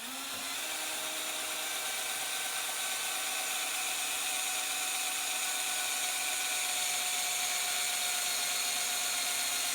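A drill bores through a workpiece for organ pipe rollers, producing a steady high whine that continues evenly and fairly quietly from start to finish.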